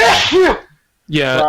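A single loud, close sneeze bursts out, followed by silence and then people talking.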